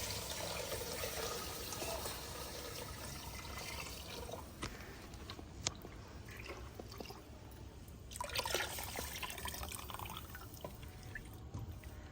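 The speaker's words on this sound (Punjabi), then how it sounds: "ਇਹਦੇ ਵਿੱਚ ਨਾ ਹੁਣ ਪਾਵਾਂਗੇ ਲੱਸੀ।" Lassi (buttermilk) poured into roasted masala for village-style kadhi, heard as soft, quiet liquid trickling and splashing with a few sharp drips and a brief louder pour near the end.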